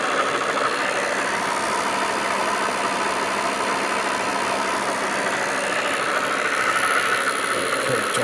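A homemade motor generator runs at full speed, a steady loud mechanical whine and hum with constant vibration that holds evenly throughout, no voices over it.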